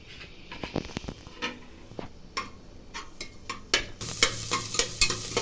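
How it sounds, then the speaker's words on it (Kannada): Onions frying in oil with a soft sizzle and scattered taps of a spoon, the sizzling swelling louder toward the end. "ಈರುಳ್ಳಿ ಫ್ರೈ ಆಗಿದೆ"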